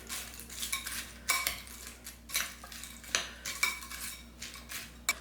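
Fried chapati pieces being tossed and mixed in a bowl, with a spoon scraping and clinking against the dish in irregular bursts of clatter, close and fairly clear, with no one talking.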